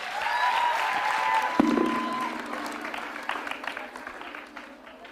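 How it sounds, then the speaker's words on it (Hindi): Audience applause at a quiz show stage event, clapping from a crowd with a sustained musical tone over the start and a thud partway through. "तालियां जोरों से बजाइए उनके लिए आप"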